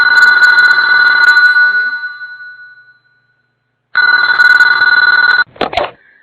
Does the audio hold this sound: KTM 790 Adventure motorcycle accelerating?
no